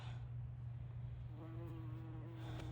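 Bees buzzing in a sunny autumn garden, a soft continuous drone close by that thickens midway with a wavering higher tone, faint and steady with no talking.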